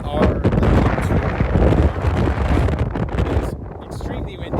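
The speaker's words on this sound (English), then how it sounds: "It's extremely windy." Strong Patagonian wind buffets the microphone along Chile's Carretera Austral, a loud continuous roaring rumble with gusty surges that fades slightly near the end.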